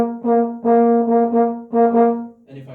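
A solo trombone plays the second line of a song's high harmony in one breath, a quick tongued run of repeated short notes on the same pitch with brief gaps, close and clear, ending on a lower note.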